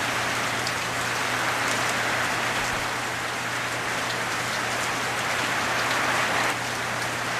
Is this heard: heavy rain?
yes